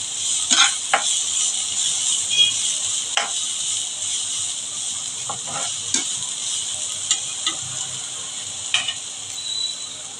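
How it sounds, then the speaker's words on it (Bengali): Vegetables fry lightly in a pan for egg chow mein, a soft steady sizzle broken by repeated light clinks and scrapes of stirring, close and without talk. "আমি একটু হালকা করে ভাজবো, বেশি ভাজবেন না, দোকানে কিন্তু বেশি ভাজে না।"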